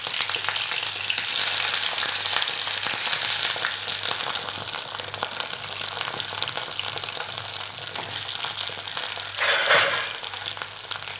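Brinjal pieces sauté in hot oil with a loud, continuous close sizzle and crackle, a brief surge of hissing near the end, and no talk.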